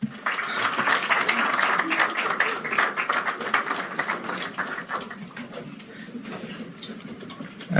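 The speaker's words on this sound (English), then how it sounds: "One more round of applause." Applause from a New York audience at a global health governance address rings out steadily for several seconds, then thins toward the end, with a bit of crowd murmur and voices mixed in.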